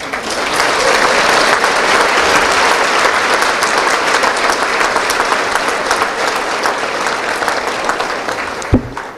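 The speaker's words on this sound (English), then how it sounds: "Now you can applaud." An audience at a high school academic awards ceremony claps in sustained, dense applause that holds loud and steady before tapering off near the end.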